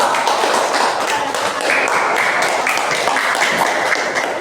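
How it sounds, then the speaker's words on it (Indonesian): Classroom applause for a student group, a dense, steady patter of many hands clapping throughout, close and fairly loud, with brief voices mixed in. "Tepuk tangan untuk kelompok 2."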